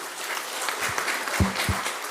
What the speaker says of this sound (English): this is not a political clap, but a genuine clap to all of those people